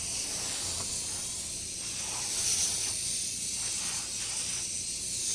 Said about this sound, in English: I'm gonna just lightly blow this off with compressed air